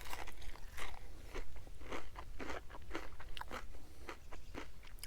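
Crunchy bites and chewing of fried freshwater fish seasoned with Frank's hot sauce, a rapid series of crisp crunches close to the mouth, steady and alone without talk.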